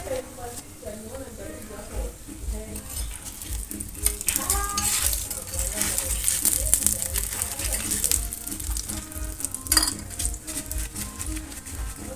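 Chapati cooking in a pan, with a soft sizzle and scraping and clinking as it is pressed and turned, heard under a woman explaining the steps.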